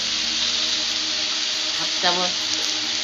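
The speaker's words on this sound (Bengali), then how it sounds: "এটা একটু নাড়াচাড়া করব।" Egg bhurji frying in a pan gives a steady broadband sizzle while being stirred, with a brief louder scrape partway through; a faint voice may be present under the frying.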